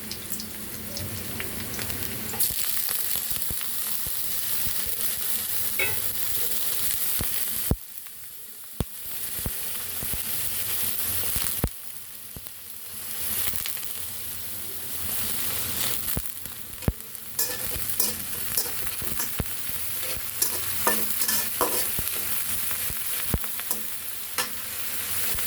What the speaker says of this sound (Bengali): এখন এটাকে কিছুক্ষণের জন্য ভেজে নিব।